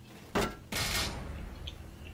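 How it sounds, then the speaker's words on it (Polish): Grenade explosion in the video game Doom 3: a sharp burst, then a second, larger blast whose noisy rumble fades over the next second or so, with no speech. "To była dość naprawdę duża eksplozja."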